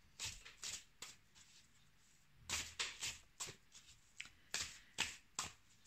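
Tarot cards shuffled for a reading, a series of quick papery riffles and slaps in irregular bursts, close and fairly quiet, with no talking.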